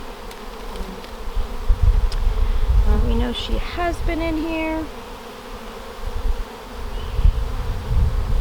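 Honeybees swarm over the frames of a newly opened hive during inspection, their dense, steady buzz close and loud while a person talks over it.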